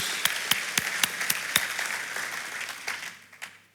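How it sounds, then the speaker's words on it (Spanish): Congregation applause during a church service, a crowd clapping with distinct sharp claps over a steady patter that tapers off toward the end. "Le damos un aplauso al nuestro proveedor"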